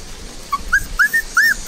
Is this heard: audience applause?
no